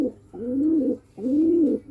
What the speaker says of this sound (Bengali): অনেক সুন্দর এক জোড়া কবুতর স্পেশাল আমার।